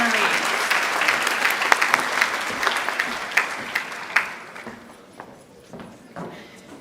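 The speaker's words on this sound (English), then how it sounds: "please join me in another round of applause congratulating all of the Nash Rocky Mount Early" Applause from an awards evening audience honoring early college high school students, a dense steady clapping that thins and fades toward the end, with a few sharper individual claps standing out.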